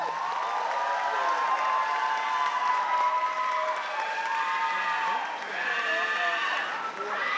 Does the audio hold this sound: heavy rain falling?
no